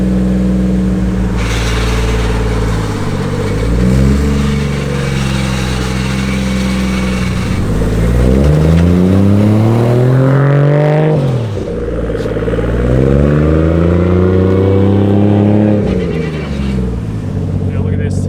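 Engine of a four-door Toyota Supra revving up and down in long rising and falling sweeps, loud and close, while people talk over it.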